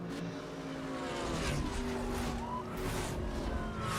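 Jaguar British muscle car engine in the racing game Need for Speed Hot Pursuit Remastered, a steady droning rumble with gliding pitch as it accelerates and shifts, continuous and fairly distant in the mix.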